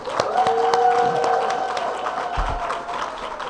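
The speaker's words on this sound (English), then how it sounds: "Can I get a round of applause for all the organizers?" Audience applause at a rent stabilization bill signing press event, a steady wash of clapping from a crowd with some cheering and chatter mixed in, filling the whole moment at moderate loudness.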